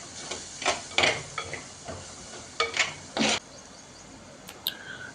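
Garam masala and coriander powder being stirred into tomato rice masala in a pan, a few scraping stirs and clinks over a faint sizzle, quiet with no talking.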